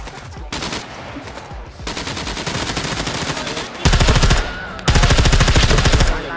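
Sustained automatic gunfire in the video game SCUM, several loud, dense bursts of rapid shots with brief gaps between them, the later bursts heavier and booming, with little talk.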